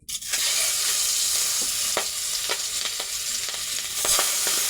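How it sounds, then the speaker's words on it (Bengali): Fish fries in oil in a pan on a clay stove, giving a loud, continuous sizzle with scattered pops and light stirring clicks throughout, no voices. "মাছ দিচ্ছি"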